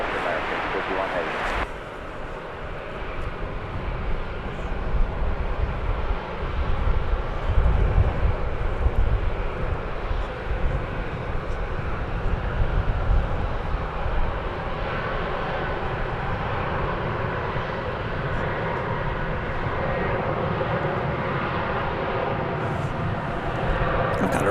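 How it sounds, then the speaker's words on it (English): An American Airlines Airbus A321 lands at DFW Airport, its jet engines producing a steady, broad roar that holds through the whole stretch, with wind-like rumble and voices talking faintly underneath. "That was American Flight 2066 and Airbus A321 coming in from Salt Lake City"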